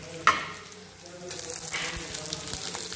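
Tomatoes tipped into a pan of onions frying in oil for a Marathi potato and spinach curry, with a sharp burst of sizzling at the drop, then a steady frying hiss and faint stirring.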